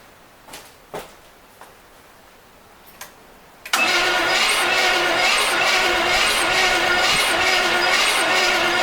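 A 1970 custom wide-body Corvette engine, left open to the weather, cranks after a few scattered clicks and knocks, then a steady loud mechanical churning starts suddenly and carries on evenly to the end.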